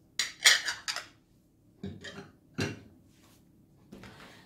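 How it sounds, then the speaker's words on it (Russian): Ceramic dishes and cutlery clatter and clink in several short bursts as they are shifted around on a surface, with quiet gaps between the knocks. "мою посуду."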